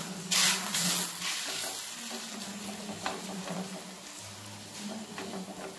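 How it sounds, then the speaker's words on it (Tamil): Radish paratha frying in ghee on a hot tawa gives a steady close sizzle and hiss, with occasional soft scrapes and stirring sounds on top. "இப்போ வந்து தவாவில் நம்ம வந்து ஃப்ரை பண்ணி எடுத்துடலாம்"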